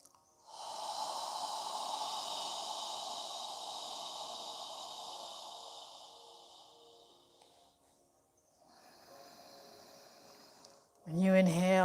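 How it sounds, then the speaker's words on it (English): A long, soft open-mouth exhale during yoga breathing, like fogging a mirror, breathy and steady for several seconds, fading, then a shorter second breath and a louder burst of air at the end. "Imagine you're fogging a mirror with your breath as you exhale."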